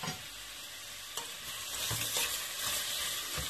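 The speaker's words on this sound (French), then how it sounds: "je vais venir mettre mes carottes en premier" Carrots sautéing in coconut oil, stirred in a pan: a soft, continuous sizzle with a few faint scrapes and knocks of the utensil, quiet and close, no voices.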